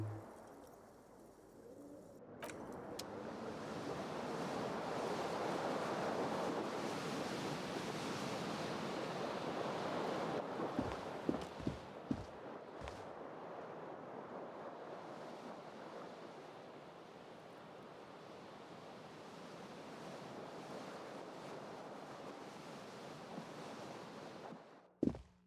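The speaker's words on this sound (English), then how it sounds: "A cool wind gushes in." Cold wind gusting through a broken window in the video game Disco Elysium: a soft, steady rushing hiss that swells and slowly fades, with a few faint clicks and a sharp tap at the end, no talk.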